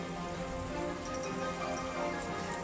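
Heavy rain pours down in Uttar Pradesh, a dense, steady hiss of drops drumming on surfaces, loud and continuous with no voices.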